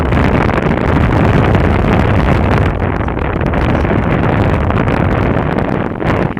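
Strong wind buffets the microphone on a boat, a loud, steady, broadband roar that stays close and continuous across the whole stretch with no talking.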